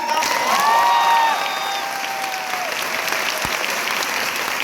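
An audience at a seminar breaks into loud, sustained clapping for an upline speaker named Siddharth, with a faint whistle over the dense applause as it eases slightly after the first second.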